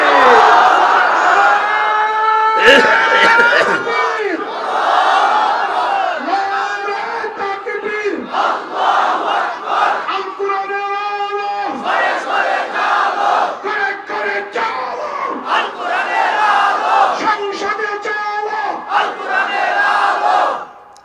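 A large crowd at an Islamic sermon shouts takbir in unison, repeated loud roaring chants with rhythmic surges and pauses, mixed with a leader's call.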